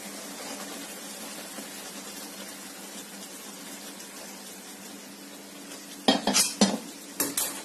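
Hot sugar syrup is poured into roasted semolina with the gas off, giving a long, steady pouring hiss and a gentle bubbling. A few sharp spoon-on-pan clanks and scrapes follow near the end as the mix is stirred, and nobody talks.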